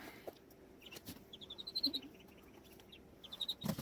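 Faint, thin peeping calls come in short bursts over quiet background noise, with a couple of soft thumps.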